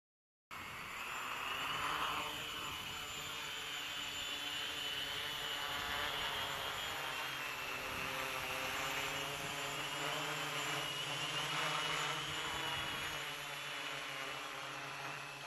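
Steady electric motor drone from a long-range farm chopper drone running near 35% throttle, a continuous whirring hum with high-pitched whine that starts abruptly and holds at an even level throughout.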